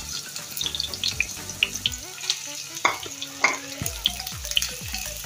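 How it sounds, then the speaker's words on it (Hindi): Chopped onions fry in oil toward golden brown for Hyderabadi dum keema, a steady close sizzle with occasional stirring scrapes and faint tonal sounds in the background, with no talking. "हम इसे अच्छे से गोल्डन फ्राई कर लेंगे"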